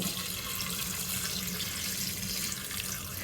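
Water poured over bamboo shoots in a container for sour pickling, a loud, steady gushing stream that runs without a break, close by with no voices.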